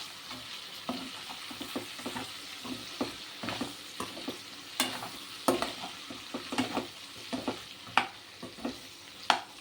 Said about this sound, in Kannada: ಇದನ್ನೆಲ್ಲ ಹಾಕಿ ಚೆನ್ನಾಗಿ ಮಿಕ್ಸ್ ಮಾಡ್ತಾಯಿದ್ದೀನಿ